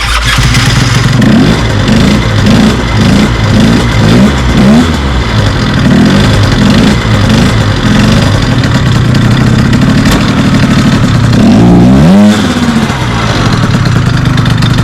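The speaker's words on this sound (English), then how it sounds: "So let's start it up off the starter motor." A motor with its CVT cover removed cranks on the starter motor, catches and runs loud and close, with a steady idle and a rising rev near the end.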